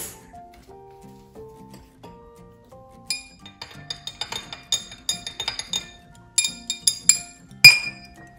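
A utensil stirs green food-colored water in a glass jar, starting with soft tones and then turning into quick, bright clinks against the glass that come faster and louder toward the end, close up and with no voices.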